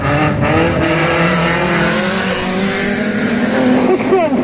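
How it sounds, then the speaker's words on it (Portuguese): Loud race car engines roar and rev close by while the cars drift through a turn at Ringwood Raceway during a wrecked-car race, their tires squealing under the steady engine drone. "Os caras passam no drift mesmo"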